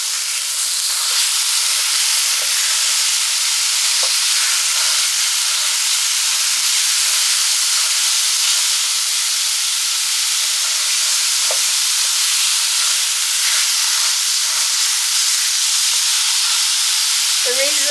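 Ground beef frying in an electric skillet, a steady close sizzle and hiss running throughout with occasional faint stirring scrapes.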